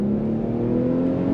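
An Infiniti EX35's exhaust drones steadily as the car accelerates onto a highway, a loud, continuous low hum heard from inside with no talking.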